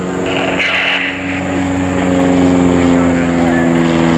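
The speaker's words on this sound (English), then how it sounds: "Let's get this airplane on the ground." A propeller airplane at an air show drones loud and steady with a strong engine hum, while voices talk briefly over it.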